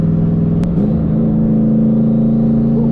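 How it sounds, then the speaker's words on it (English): Turbocharged Ford Mustang making over 500 hp, heard downshifting with a brief blip around the gear change before settling into a loud, steady rev that holds throughout, with no talking. "Can't beat the downshifts."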